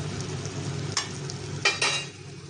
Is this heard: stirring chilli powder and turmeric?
yes